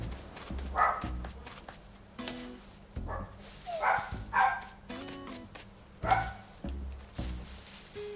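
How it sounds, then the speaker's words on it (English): A puppy barks repeatedly at moderate distance, around eight sharp yapping barks in irregular bursts with brief pauses between them. "Puppy's a bit barky today."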